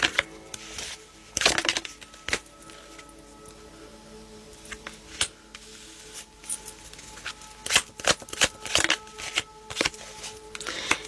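Tarot cards being shuffled and handled up close, soft riffling bursts and sharp flicks and slaps at irregular intervals with quieter rustling between them, fairly loud and with no speech.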